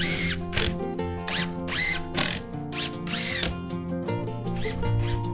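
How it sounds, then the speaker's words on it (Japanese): A power driver fastening wood screws while building an L-shaped wooden box canopy over windows on a new house, giving several loud whirring bursts in quick succession, each ending as a screw seats. "後ろから3本はこのビスでしっかりと留めてやります。"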